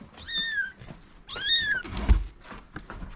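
A kitten meows twice, high and plaintive, close to the microphone, followed by a soft thump and quiet rustling.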